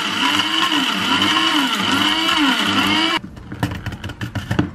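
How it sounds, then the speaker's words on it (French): An electric icing-sugar grinding machine whirs loudly for about three seconds with a steady motor drone, then cuts off abruptly, followed by a few knocks and rattles of handling. "je mets dans une machine à sucre glace"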